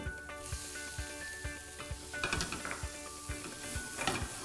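Shrimp hitting a pan of frying vegetables for Thai flower-shaped spring roll filling, a steady sizzle with regular rhythmic scraping or stirring strokes and clinks, close and without talk.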